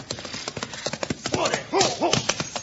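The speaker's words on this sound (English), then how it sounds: "There's a horse coming." A horse approaches with rapid clip-clop hoofbeats in an old Wild Bill Hickok western radio show, one neighing whinny rising near the end, with someone talking over the hooves.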